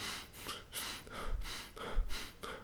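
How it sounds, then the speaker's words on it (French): Short, shallow breaths through the mouth are demonstrated up close, a quick even run of breathy inhales and exhales with no talking. "Ils ont une respiration très courte et par la bouche."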